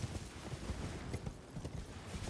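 Horse hooves galloping in Elden Ring, a quick, rhythmic clatter of muffled thuds at a fairly soft level, repeating steadily under a low background wash.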